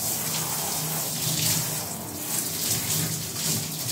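Running shower water pours steadily and close by while a husky is bathed, a continuous even hiss with no talk over it.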